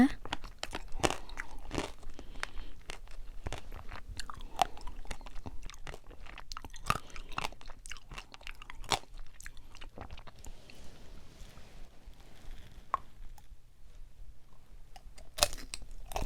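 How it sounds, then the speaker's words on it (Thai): Homemade candied strawberry and grape tanghulu gets bitten and chewed up close, its hard sugar shell giving sharp, crisp crunches over and over in an uneven rhythm. "อร่อยกรอบกรอบไม่ห่วงสุขภาพฟันเลยนะจ๊ะ"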